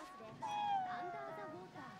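A costumed yokai cat in the video game Ghostwire: Tokyo, set in the Shibuya district of Tokyo, lets out a single drawn-out, slightly falling meow over a quiet game background. A voice talks faintly underneath.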